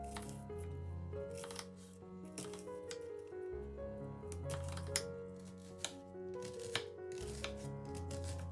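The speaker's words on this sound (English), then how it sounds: "Take half an onion, clean and cut into small pieces." A knife chops half an onion into small pieces on a board, giving a few scattered, crisp cuts that sit under steady background music.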